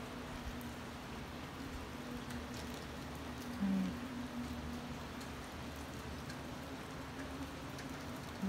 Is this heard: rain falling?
yes